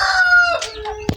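Small backyard chickens outside their house, clucking and crowing in a brief, close burst of harmonic calls with a sharp cluck near the end.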